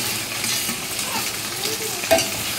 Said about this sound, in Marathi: हे आपण उकडलेले बटाटे तेलात टाकतो